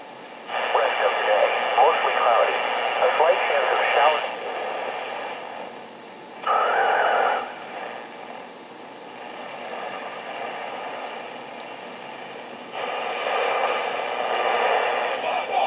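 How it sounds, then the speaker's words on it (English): A 1959 Jefferson-Travis JT-G104 transistor radio made in Japan plays an AM broadcast, with voices talking through a hissy, band-limited speaker sound whose level rises and falls. "let's listen to the set play on AM"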